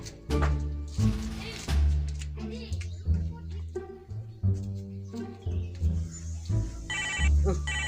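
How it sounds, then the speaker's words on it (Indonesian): A telephone rings with a warbling electronic trill, mixed with other tonal sounds and voices. "Oh, telepon."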